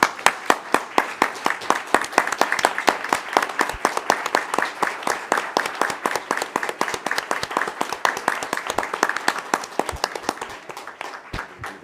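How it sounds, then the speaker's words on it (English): An audience at a school board meeting claps in a dense, even round of applause that holds strong for about twelve seconds with no voices over it. "Give him a round of applause."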